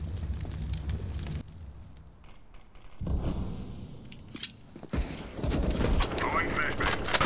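Gunfire in the game CS:GO during a competitive match, sharp bursts of shots near and far, with a loud volley near the end under continuous game noise.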